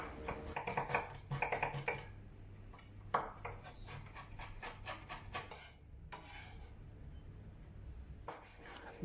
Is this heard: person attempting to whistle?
no